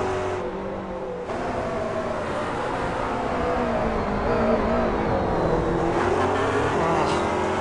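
A Grand Am race car engine accelerating on a racetrack in Australia or New Zealand, a loud sustained whine rising in pitch as it climbs through the gears, with commentary voices underneath.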